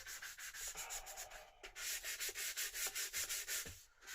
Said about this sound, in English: Just give this edge in here a light sanding along here.